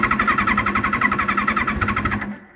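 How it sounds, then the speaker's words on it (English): A Kawasaki ZXR 750 street fighter motorcycle engine runs roughly on choke, a fast uneven pulsing idle that sputters and then cuts out abruptly into silence at the end, close and fairly loud. "as soon as you just put the choke slightly off or try to rev it, it just conks out"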